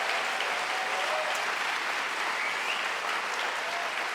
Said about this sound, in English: Please help me give Nicola a round of applause and his team.